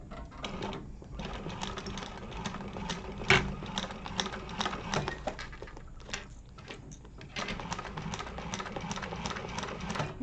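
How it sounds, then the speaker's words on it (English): Sewing machine stitching a quarter-inch seam, a quiet rapid mechanical chatter in short bursts with brief pauses between runs, close by and alone. "sew from the bottom to the top with a 1/4 of an inch seam allowance"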